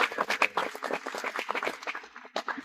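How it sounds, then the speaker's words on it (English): An audience at a panel event claps for the experts on stage, a close, dense burst of clapping that swells and then thins out. "Can we give a round of applause for our experts up here?"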